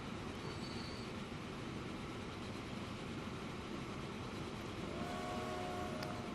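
Freight train on a loop in the game Transport Fever, hauling ore and construction materials: a steady, loud rolling rumble of rail cars with faint wheel squeal near the end, no voices.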